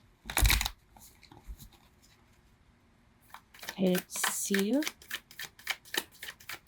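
Tarot cards are shuffled in quick bursts of crisp riffling and flicking, with a brief spoken remark in the middle and rapid card snaps after.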